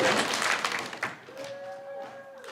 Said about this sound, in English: And one more Cougar clap for Mrs.